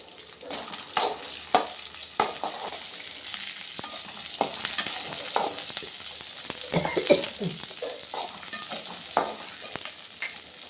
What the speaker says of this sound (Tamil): போட்டு இப்போ கொஞ்சம் நல்லா வதக்கிக்கலாம்